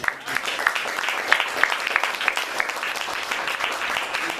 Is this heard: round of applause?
yes